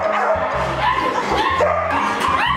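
Many small dogs gathered behind a fence at a large dog theme park, yipping and barking in a busy, overlapping chorus that keeps going loudly throughout.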